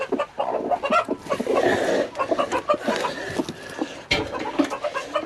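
A broody hen sitting in a nest box gives low, close, irregular clucks and grumbles, with soft rustling around them and nobody speaking.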